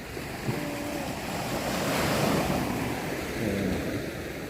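Waves wash onto the sand at Tanjung Bunga beach in Makassar, with wind buffeting the microphone in a steady, swelling roar of surf and gusts, no voices.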